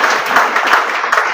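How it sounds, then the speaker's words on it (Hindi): Audience applause welcoming a professor at a college birth-anniversary event for a founder, dense and steady clapping throughout, fairly loud and close, with no talking over it. "सबसे पहले आप लोग सर का जोरदार तालियों से स्वागत करेंगे"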